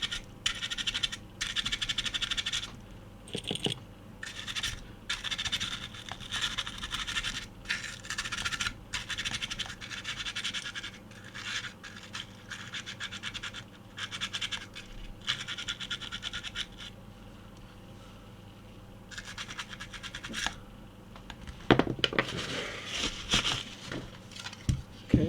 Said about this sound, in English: just a little scrub with the toothbrush should do the